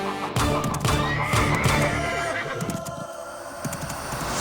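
A horse whinnies loudly amid busy outdoor commotion in a film scene, with hoof clatter and scattered knocks underneath as the neigh rises and fades across several seconds.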